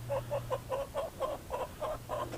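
Chickens clucking in their pen, a steady run of about ten short rhythmic clucks, close but soft over a low background hum.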